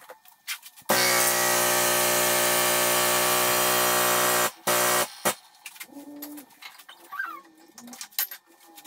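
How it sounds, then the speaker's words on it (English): A power tool cutting steel roll cage tubing in a Cherokee shop, a loud steady harmonic whine for about three and a half seconds, followed by short bursts and quieter clanks, with no talking. "We just got to figure out the angles of the notching and get it cut."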